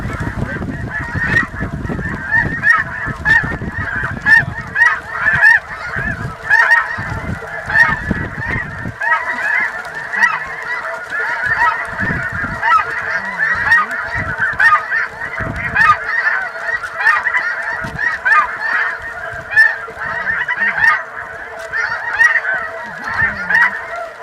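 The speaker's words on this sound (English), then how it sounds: "there's a large number of geese in there feeding" A large flock of snow geese honking in a feed field in Missouri River bottoms, a dense continuous chorus of overlapping honks, loud and near, with no talk.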